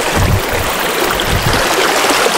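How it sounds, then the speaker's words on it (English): A creek near ranch ruins flows with a steady, close rushing and trickling of water, broad and unbroken for the whole short stretch. "Here's the creek everybody keeps hearing."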